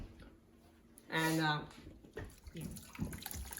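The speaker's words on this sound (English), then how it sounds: "we're gonna just strain the noodles to get all the water out" Cooked noodles are strained, with a short, loud gush of draining water that rises and fades within a second, followed by softer splashes as a voice speaks nearby.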